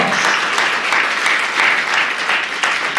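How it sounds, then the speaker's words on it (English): Audience at an awards dinner and inauguration night applauding Professor Bonanle Kotun, a dense, continuous round of clapping that stays loud and even throughout. "Can we please give her a round of applause?"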